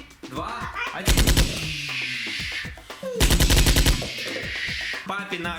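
A Nerf blaster fires in two fast rattling bursts of shots, loud and close, with people talking around the bursts in a home setting.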